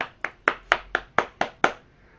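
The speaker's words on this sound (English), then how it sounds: "Big applause." Hands clap seven times at an even, moderate pace, each clap crisp and close, with brief quiet gaps between and no voices.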